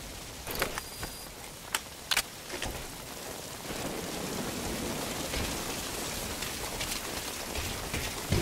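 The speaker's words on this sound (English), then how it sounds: "Rain just won't let up." Steady rain pours in the stealth video game Metal Gear Solid V: Ground Zeroes, a dense continuous hiss with a few sharper drips and taps near the start, no talk over it.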